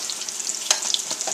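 Eggplant frying in a pan, a steady bright sizzle with a few sharper crackles and pops standing out over the continuous hiss.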